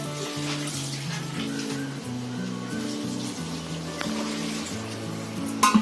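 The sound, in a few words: water poured from a tambya (pot) into veg pulao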